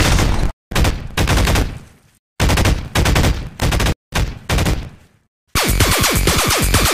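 Liberty Prime, the giant robot in the Fallout 3 video game, fires in loud, harsh bursts of gunfire-like blasts separated by short gaps, ending in a dense, crackling barrage.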